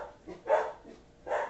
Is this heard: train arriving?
no